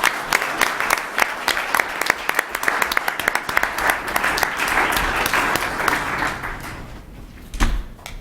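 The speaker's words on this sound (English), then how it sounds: "let's give one last round of applause to these two new members" Applause at a city council meeting for two new fire department members, a crowd clapping steadily and fairly close, fading toward the end with a brief thump near the finish.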